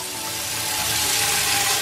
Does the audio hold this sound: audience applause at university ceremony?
no